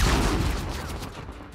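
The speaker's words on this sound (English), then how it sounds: "that's a satisfying explosion" A loud explosion in the video game Uncharted 4 booms at the start, then its rumbling, crackling debris decays steadily over about a second and a half.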